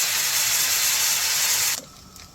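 Carne asada steak sizzles loudly in a hot pan over medium-high heat, a bright continuous hiss that runs steadily and then drops off sharply near the end, leaving a faint quieter background.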